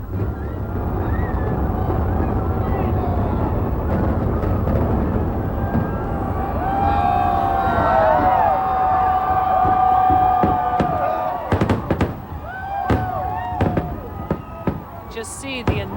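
Rapid crackling volleys of the 2,700 timed demolition charges that imploded Three Rivers Stadium in 2001, booming over a steady roar of wind and crowd noise, with sharp separate bangs near the end.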